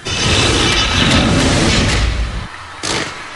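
Fireworks at an outdoor fireworks festival in Marikina burst as loud, booming blasts with rumbling thuds and crackle, then a sudden drop before another sharp boom near the end.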